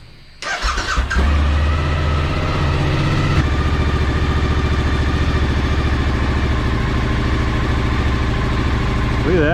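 Suzuki V-Strom DL1000 motorcycle engine cranks and fires up after a stator replacement, then settles into a steady, close idle, loud and alone.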